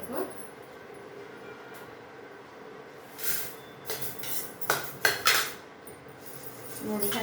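Spices for rasam powder dry-roast in a pan over low heat while a utensil stirs and scrapes, making clinking, rattling bursts that grow busier toward the end over a soft steady hiss, with no talking.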